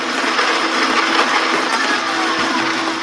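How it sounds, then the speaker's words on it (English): A blender runs in a steady, loud whirring grind with a constant motor hum, heard alone and close for a few seconds. "Activating blender."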